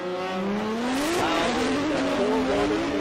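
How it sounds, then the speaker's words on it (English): A Toyota A90 Supra and a Nissan S15 drift car at a Formula Drift Japan round at Fuji scream around a bend, with loud rising engine wails and tire squeal sweeping past continuously. "we can hear them coming around to outer zone 1, screaming"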